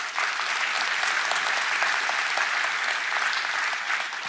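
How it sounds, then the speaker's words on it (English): A large audience claps at a COMPUTEX technology keynote, dense, even applause sustained loud and close for several seconds with no break. "So please, a round of applause."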